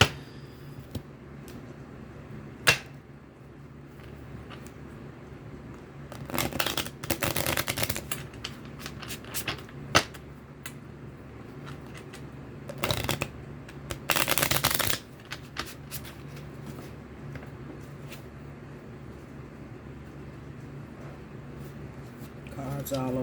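Tarot cards shuffled by hand in two brisk, rapid riffling bursts a few seconds long, close and fairly loud, with quiet pauses and a few light taps between them.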